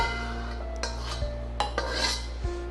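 A pan of tomato and egg stir-fry being tipped onto a plate: soft scraping and a few light metal clinks and taps over a steady low kitchen hum.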